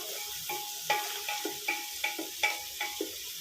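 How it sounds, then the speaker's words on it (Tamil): Chicken sautés slowly over a low flame in a pan, with a soft steady sizzle and regular scraping strokes of a spoon roughly every half second, close and fairly quiet. "சிக்கன் இப்படியே வதங்கட்டும், இதுலேயே அப்படியே மெதுவாக சிம்மிலேயே வதங்கிட்டே வெந்துச்சுன்னா டேஸ்ட் நல்லாயிருக்கும்"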